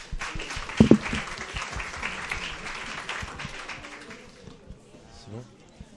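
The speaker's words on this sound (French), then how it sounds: "On peut l'applaudir." An audience at a debate on education in France breaks into applause, a dense patter of many hands that fades out over several seconds while voices carry on beneath it.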